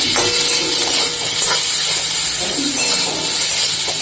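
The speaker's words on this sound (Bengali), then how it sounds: "তো প্রথমে মাছটা ভেজে নেব" Fish frying in a pan, a loud continuous hiss and sizzle of hot oil held close and steady throughout, with no talk over it.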